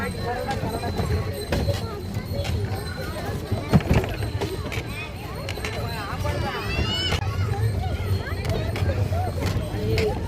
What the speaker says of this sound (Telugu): ఎద్దుల బండి